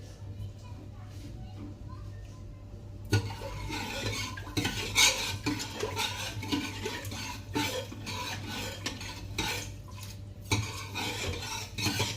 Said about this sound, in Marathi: मी आता डाळीला फोडणी देऊन घेत आहे